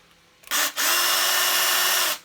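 A Parkside PABH 20-Li B2 cordless hammer drill, running for the first time with the selector set to rotation only, whirs loud and steady after a brief start and stop, then cuts off.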